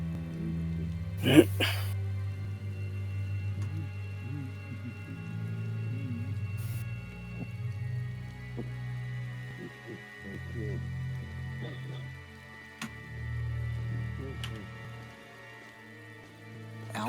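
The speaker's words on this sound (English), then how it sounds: "You sure you want to be standing out there in the rain?" Soft, steady rain falls throughout in the video game Tales of Xilla Remastered, a quiet even patter under game music and occasional speech, broken by a few brief louder thumps.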